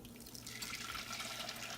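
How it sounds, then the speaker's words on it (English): Blended cherry bomb sauce pours into a pan, a quiet continuous liquid stream with soft splattering and dribbling that builds slightly as it flows, close and faint with no talking. "what we're going to do is we're going to pour this into the pan."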